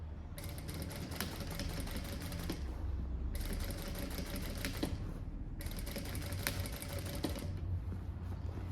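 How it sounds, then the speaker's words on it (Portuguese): Sewing machine backstitching through a synthetic printed tote bag panel, with three bursts of rapid, even needle clatter separated by short pauses, close and steady. "E agora vamos dar um retrocesso onde a gente começou a nossa costura aqui."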